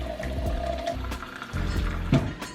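Instant hot water pouring into a Stanley coffee press, a steady gurgling fill with shifting pitch as the vessel takes on water, close and continuous without talk.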